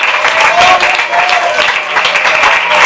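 A church congregation gives a strong round of applause during an evening worship service, loud sustained clapping from many hands that fills the room, with some voices mixed in underneath.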